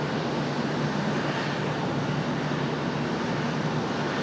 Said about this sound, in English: American Airlines 2710 coming in from Tampa. 737 800. Or no, an A321, excuse me, coming from Tampa.